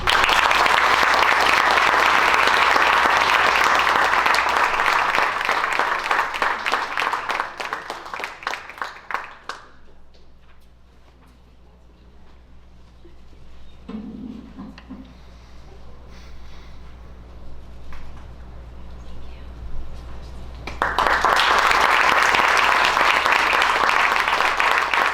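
A ceremony audience gives loud, sustained applause for scholarship and award recipients, the clapping dying away to a quiet murmur of the hall midway before a fresh full burst of applause returns at the end.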